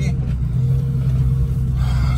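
Cabin view of a Ford 6.0 Powerstroke diesel truck on the road: a steady, close, low engine rumble and drone, with no talking.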